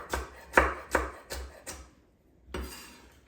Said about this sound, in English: Again, just rough chopping these carrots.